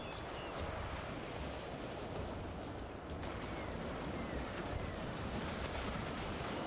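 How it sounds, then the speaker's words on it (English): Ocean surf rolls steadily along a deserted beach in the video game Beasts of Maravilla Island, a continuous soft wash of waves with a faint windy hiss, calm and even throughout. "the soothing sounds of the ocean"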